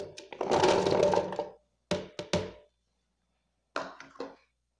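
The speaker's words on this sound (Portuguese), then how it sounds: "Eu vou bater tudo aqui no liquidificador." A blender whirs loudly for about a second and a half, then gives several short bursts separated by silence, mixing carrot cake batter with carrot, sugar and egg.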